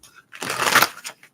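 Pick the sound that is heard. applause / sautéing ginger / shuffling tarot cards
shuffling tarot cards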